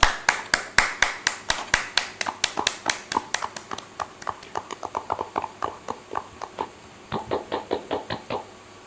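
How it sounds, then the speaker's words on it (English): An audience at a live music session claps in steady unison to welcome a performer. Sharp, even claps start loud and quick, then gradually thin and soften, with a brief pause before a final burst. "may I request for a huge round of applause"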